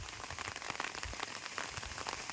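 Morning rain falls on a village with a steady, close patter of drops striking surfaces. The texture is even and unbroken, with no voices over it.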